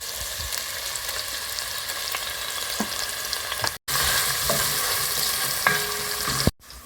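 Vegetables and whole garlic cloves frying in a pan for Neapolitan pasta sauce, sizzling steadily up close while a utensil stirs and scrapes, with two brief cuts in the sound.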